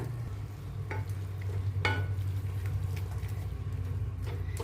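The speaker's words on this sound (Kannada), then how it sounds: "ಈ ಗರಂ ಮಸಾಲ ಹಾಕಿ ಇದನ್ನು ಮಿಕ್ಸ್ ಮಾಡೋಣ." A spoon stirs garam masala into a simmering mixed vegetable kurma in a pot. A few scraping strokes sound over a soft, steady bubbling hum with no talking.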